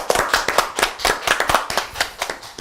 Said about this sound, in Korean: 스스로 한번 박수 한번 주시죠.